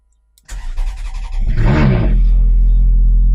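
A Ferrari engine, just after its engine bay was cleaned, cranks with a whirring starter for about a second, then catches with a rising roar and settles into a loud, steady idle close by.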